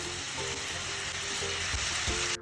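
Fried koi fish go into a boiling spiced gravy with tomato, giving a close, steady sizzling and bubbling with a few soft stirring knocks and no speech.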